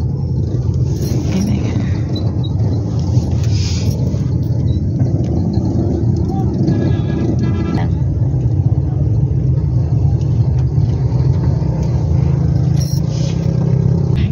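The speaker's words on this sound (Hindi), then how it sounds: "कुछ गाड़ियां जा रही हैं जो शायद घर वापस जा रहे होंगे।" Cars passing through a traffic jam after a street rally, a loud continuous low engine rumble of nearby vehicles that never lets up, with occasional revving.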